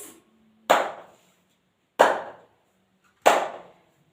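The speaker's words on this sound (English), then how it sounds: "Hello, let's clap your hands." Three single hand claps ring out alone at even intervals of just over a second, each a sharp, close slap with a short decaying tail, after the tail end of an earlier clap.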